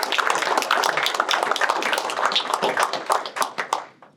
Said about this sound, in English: So let's give Thomas a round of applause.